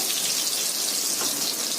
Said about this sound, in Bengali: এবারে আলুগুলো আমি ভেজে নেব, ভালো করে লাল লাল করে ভেজে নেব।